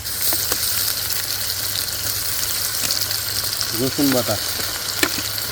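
Spices and ginger paste fry in hot oil for a dried fish curry, a steady loud sizzle with brief stirring clatter while a person speaks over it.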